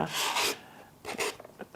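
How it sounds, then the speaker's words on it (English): A sanding block with 100 grit paper rasps along the edge of a wooden cradle board, two close, harsh strokes followed by a few shorter scrapes. "So I'm going to take my 100 grit paper"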